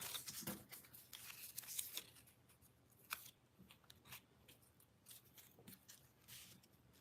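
Scissors fussy cutting around paper, a quiet close series of irregular snips and crisp paper rustles with small pauses between cuts, no talking.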